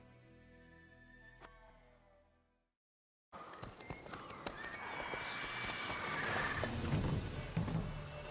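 Horse neighing and galloping in the video game The Witcher 3, starting quietly, cutting to silence, then returning as loud, busy hoofbeats and whinnies over game ambience.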